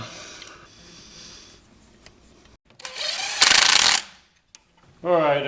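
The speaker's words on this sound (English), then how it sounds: "Get nuts on these guys, then just tighten them all up." Nuts are tightened on a car being built up from the bare frame: soft mechanical noise is followed by a loud burst of power-tool rattling, a pause, then another strong whirring burst, all close by.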